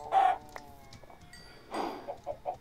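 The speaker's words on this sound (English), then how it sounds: "Some chickens." Minecraft chickens cluck in a few short, quiet bursts, one near the start and a cluster near the end, with a faint game backdrop between them.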